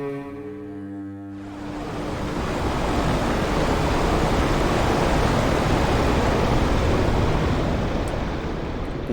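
A flooded room drains in the original Resident Evil Director's Cut after a lever is pulled. A short tonal cue gives way to a loud, steady rush of water that swells and then holds for several seconds.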